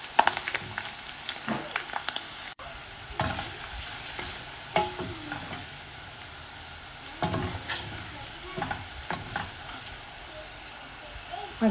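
Onions fry in oil until reddish-brown, with a soft continuous sizzle broken by frequent scraping stir strokes of a spoon against the pan, close and fairly quiet.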